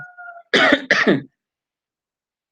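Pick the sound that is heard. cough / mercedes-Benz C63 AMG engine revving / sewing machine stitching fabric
cough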